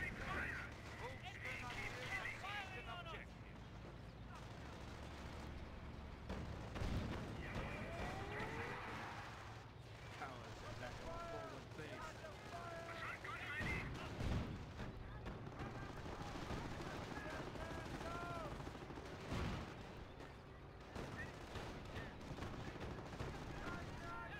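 In a video game, an M10 tank destroyer fires on a Puma, producing repeated booms and bursts of gunfire within a steady, faint battle din.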